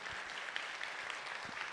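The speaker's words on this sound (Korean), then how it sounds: "이 예수님 우리 기쁘게 박수치며 찬양합시다" A church congregation clapping during worship, a dense, even patter of many hands heard faintly and at a distance.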